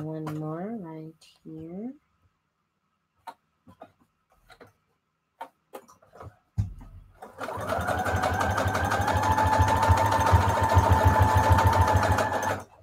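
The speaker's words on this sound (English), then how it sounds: "Definitely much better to sew with the Lite HeatNBond." A sewing machine stitches through fabric bonded with HeatNBond Lite, a steady close whirring run of about six seconds that follows a few brief taps and a short stretch of speech.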